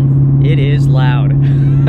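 A 2011 Toyota Tundra V8 with a Flowmaster exhaust idles with a loud, steady low rumble, while voices talk over it.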